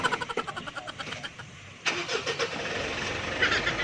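A Toyota Vios with automatic transmission reversing, its engine audible after a run of rhythmic clicking, then a louder mid-range engine hum with faint mechanical ticks, fairly close.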